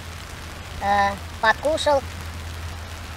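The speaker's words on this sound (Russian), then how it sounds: "вот пошел дождик" Steady rain patters down around a forest campsite beside a church cemetery, a soft continuous hiss with a tarp overhead, while someone speaks briefly in the middle.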